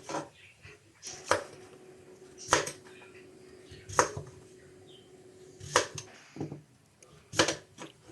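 Sharp knife strokes slice through firm pumpkin and land on a board, five or six distinct chops spaced about a second apart, close and clear.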